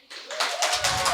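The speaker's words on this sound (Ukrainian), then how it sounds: "Аплодуємо осені." An audience at a live event applauds in a brief, dense burst of clapping that starts suddenly and carries on.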